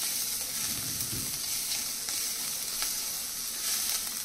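Crushed garlic stirred into browned onions sizzling in a pan for potato and bean sabzi, an even, close frying hiss with faint spoon scrapes and a brief low clatter near the start, with nobody talking.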